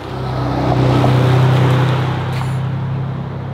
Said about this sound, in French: Et là, il y a une voiture qui arrive.